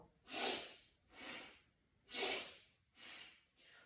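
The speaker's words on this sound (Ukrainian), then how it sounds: "Вдих вліво, видих вправо." Four slow, deep breaths alternate between inhaling and exhaling during a breathing exercise. They are close and breathy, evenly paced about one second apart, and heard alone in a quiet room.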